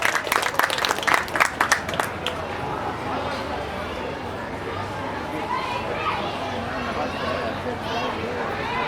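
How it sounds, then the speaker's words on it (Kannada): Crowd clapping at a Human Rights Day event in Dandeli as a guest is called up to the stage, opening with a few sharp near claps, then settling into a continuous murmur of applause and chatter. "ಎಲ್ಲರೂ ಚಪ್ಪಾಳೆ ತಟ್ಟಿ ವೇದಿಕೆ ಆಗಬೇಕಾಗಿ ವಿನಂತಿ"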